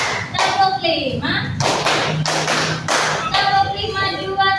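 A classroom of students claps together in a counted rhythmic pattern, sharp bursts of hand claps in grouped beats, loud and close, with a teacher's voice calling the counts between them.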